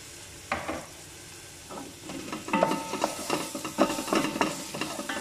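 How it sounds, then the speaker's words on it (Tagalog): Onions and freshly added garlic sauté in oil in a pan for beef bukari. A soft sizzle sits under busy, irregular clatter and scraping that grows louder partway through, with no voices. "Igisa ko siya hanggang mag-light para lumabas ang kanyang amoy."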